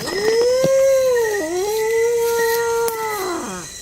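A long, loud, wavering howl close by, steady in pitch with a short dip midway before it trails off, sounding like a dog howling.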